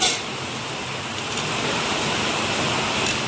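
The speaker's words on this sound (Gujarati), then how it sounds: "ધોધમાર વરસાદ પડે છે" Torrential monsoon rain pours down in a steady, dense roar, a constant broadband wash with no breaks and no voices.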